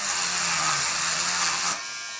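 A Turobot electric pet clipper for dogs and cats set to a 3 mm guard buzzes steadily as it cuts fur, with a loud, even motor whine that shifts slightly in tone, then drops abruptly to a quieter hum near the end.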